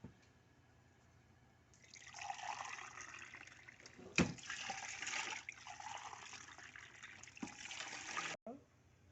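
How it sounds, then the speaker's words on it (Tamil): Chicken gravy and water coming to a boil in a cooking pot, a steady bubbling, hissing wash of liquid that swells and holds for several seconds, heard close with a clatter partway through. "இது கிரேவியும் தண்ணி நல்லா கொதிச்சாச்சு."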